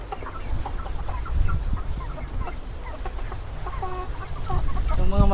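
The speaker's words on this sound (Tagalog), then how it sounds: "Yung mga manok natin, gutom na sila." Hungry chickens cluck and chatter in a steady, close chorus, with busy overlapping calls that grow louder toward the end against a low outdoor rumble; no voices.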